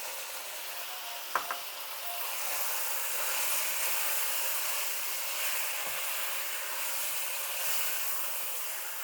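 Three tomatoes frying in a pan with masala for chicken gobi, a steady close hiss and sizzle, opening with a couple of brief knocks, continuous with no talk.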